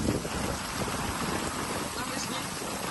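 Steady broadband hiss of heavy storm rain at a campervan mixed with wind buffeting the microphone, continuous and fairly loud throughout.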